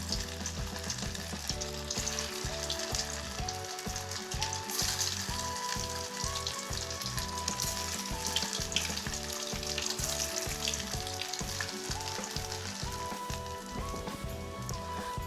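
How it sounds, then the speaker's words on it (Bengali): Soybean muitha dumplings fry in hot oil in a kadai, giving a dense, continuous crackling sizzle that holds steady and fairly close throughout, with no voices. "তেল গরম হয়ে গেছে, এবারে এগুলো ভেজে নেব"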